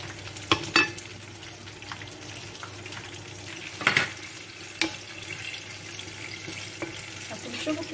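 Onions frying in oil in a pan for an aubergine and meatball tajine make a moderate, steady sizzle, broken by a few sharp clinks and stirring knocks near the start and middle.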